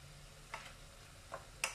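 Sardine-style tuna stirred in a pan, with a few scattered light scraping ticks of the utensil against the pan over a quiet background, faint and sparse.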